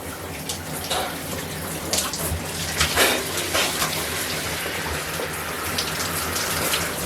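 Shower water runs steadily during a hydrotherapy session, a continuous broadband hiss and splatter filling the whole clip at a fairly even level, with no talking.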